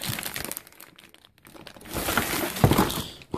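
Plastic packaging around a Logitech G27 pedal set crinkles and crumples as it is pulled off, with a loud close rustle, a quiet pause, then a louder burst of crinkling and tearing.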